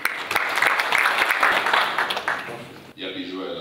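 Audience applause breaks out during a political speech by Nikol Pashinyan, a dense, steady roar of many hands clapping that fades toward the end before a brief cut.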